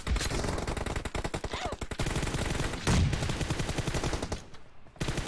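Gunfire from the video game PUBG, loud and near, with rapid automatic bursts and dense repeated shots running almost without a break, briefly pausing near the end.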